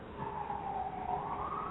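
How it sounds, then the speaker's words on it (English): An emergency vehicle siren wails steadily at a distance, its rising and falling tone sitting over a dense background rumble with no voices. "See? The sirens are going off."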